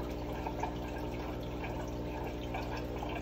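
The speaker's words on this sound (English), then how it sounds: "But it's just that I want to get the water out now." Water being poured out of a container that held shipped fish, a steady splashing trickle close by, continuous and fairly quiet, with no talking.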